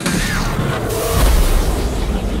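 A loud, rumbling explosion from a chaos explosion attack in the video game Manamon 2 swells into a deep, sustained boom and roar, with no one speaking.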